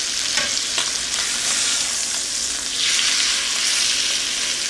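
Mahi-mahi fillets frying in a pan with brown butter, a loud, continuous close-up sizzle and crackle with faint stirring, no voices.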